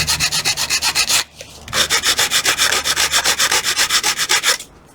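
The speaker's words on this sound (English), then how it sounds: "And then just wants us to sand the top level." Hand sanding across the top of a wooden piece gives loud, close, rhythmic back-and-forth rasping strokes in a fast even run, broken by one short pause partway through, with no voices.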